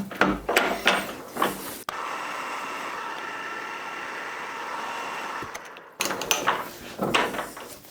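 A steady drill whir runs for about four seconds while drilling holes in metal, after some brief knocks, ending in more clattering mechanical handling noises nearby.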